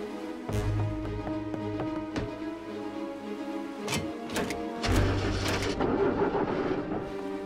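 A cartoon boat engine sputters and chokes with uneven knocking and clunking bursts, its propeller tangled in kelp, over a steady mechanical hum with a few sharp clanks.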